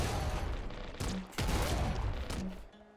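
Rapid buzzsaw and razor weapon fire from the top-down shooter Nuclear Throne, a burst of quick, faint shots with a brief lull in the middle, heard alone with no voice.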